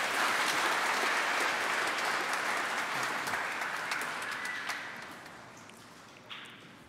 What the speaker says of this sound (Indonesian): Kita beri aplaus untuk tuan rumah dulu.